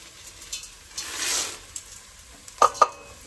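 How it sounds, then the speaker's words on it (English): Dry split peas poured into a pot where onions and garlic are sautéing, a hissing rush of pouring and sizzle followed by a couple of sharp clinks against the pot. "So now I'm going to add 2 cups of split peas"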